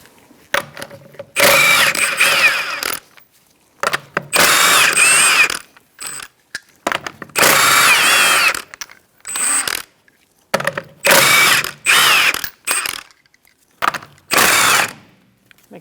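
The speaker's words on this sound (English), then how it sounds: "Using a 21mm socket, we're going to remove our lug nuts to remove our wheel." Socket wrench with a 21mm socket spinning off wheel lug nuts on a 2004-2009 Mazda 3, loud close ratcheting bursts of a second or two each, separated by brief silences, with a final quieter clicking at the end.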